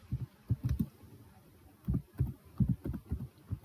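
Keystrokes on a computer keyboard while typing into a web browser: short bursts of soft, close clicks, a quick cluster early on, then a pause, then another run of taps.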